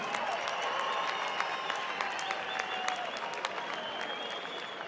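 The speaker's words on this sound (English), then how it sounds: "Can we please have a round of applause for these two warriors?" Steady applause from a boxing event crowd after a four-round fight, moderately distant clapping filling the hall evenly, with an announcer's voice faintly layered over it.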